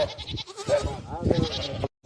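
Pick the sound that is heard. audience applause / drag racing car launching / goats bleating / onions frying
goats bleating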